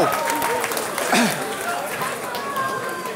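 An audience at a KOTD rap battle claps and cheers in a short, loud burst that fades into lighter applause and scattered shouts, with voices talking over it.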